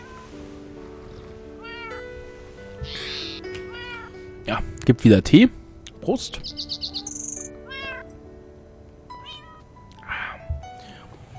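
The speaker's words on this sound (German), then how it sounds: "Und die Katzen da oben..." Cats in Minecraft meowing repeatedly near and far, with a burst of louder yowling in the middle and some faint chirps, while someone talks over part of it.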